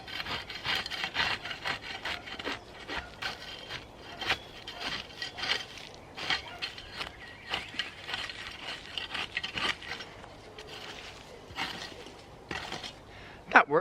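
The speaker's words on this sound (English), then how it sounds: "I've never used a hoe before, so this is going to be a fun, unique experience" A garden hoe scrapes weeds off allotment soil in repeated short strokes, a close, gritty scratching rhythm running steadily throughout with brief pauses between pulls.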